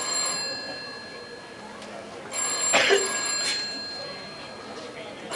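A telephone rings in a radio drama, a short burst of bell-like ringing tones rising over a background of sustained tones, with voices speaking around it.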